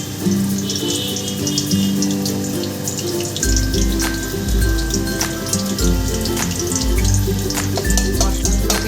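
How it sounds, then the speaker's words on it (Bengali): Loud, dense sizzling and crackling of whole spices (bay leaf, dried red chili, cinnamon, cardamom) in hot oil, with scattered pops over a low rumbling hum that kicks in partway through. "একটা তেজপাতা একটা শুকনো লঙ্কা দারচিনি আর দুটো এলাচ আমি ফাটিয়ে ফোড়নে দিয়ে দিলাম"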